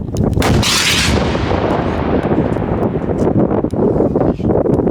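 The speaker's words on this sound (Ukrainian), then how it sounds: "Для потужнішої атаки боєць-оператор обирає залп РПГ. Постріл!" An RPG grenade launcher shot booms close up, followed by a long roaring rush of noise and rumbling, loud and sustained, with no speech.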